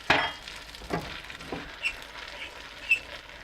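Pasta gets stirred in a pan with an egg, milk and Parmesan mixture, giving soft scrapes, light sizzling and a few sharp clicks of a utensil against the pan, quiet and close.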